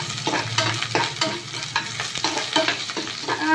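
Ten cloves of finely chopped garlic sizzle loudly in hot oil in a pan, with a steady crackling fry broken by repeated stirring scrapes close by.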